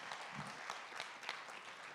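An audience applauds steadily at a business pitch competition event, a dense, even wash of clapping heard from a distance with no voices over it.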